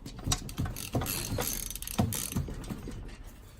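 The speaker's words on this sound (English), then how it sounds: "So I'll try it with just a wrench and we'll see what happens." A hand wrench works a 9/16 bolt loose on a Kawasaki KT 17 engine during a teardown, a close series of rapid metallic ratcheting clicks and knocks in uneven bursts.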